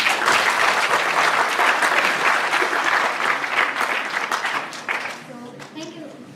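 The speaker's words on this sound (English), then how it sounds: "Let's once again give another round of applause to Ms. Benjamin." A festival audience gives a loud, sustained round of applause that gradually thins and fades over several seconds, and a voice begins speaking as the clapping dies away.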